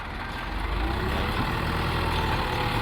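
A tractor engine pulls a homemade jugaad trolley outdoors in rural Punjab. The engine gives a steady, loud, close rumble with no pauses.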